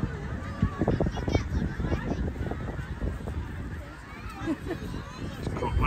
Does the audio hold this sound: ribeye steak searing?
no